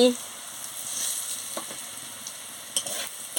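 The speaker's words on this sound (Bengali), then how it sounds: "দিয়ে ভালো করে ভেজে নিচ্ছি" Dried chilli powder frying with eggplant, potato and tomato in a pan, a soft sizzle with a few scraping stirs and light clinks, fairly quiet and without talk.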